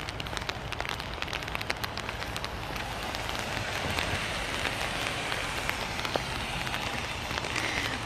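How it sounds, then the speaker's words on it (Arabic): Light rain without thunder falling in Seoul, South Korea: a steady, dense hiss of drops pattering on surfaces, constant and even throughout with no talk. "ما فيش صواعق، مطر خفيف."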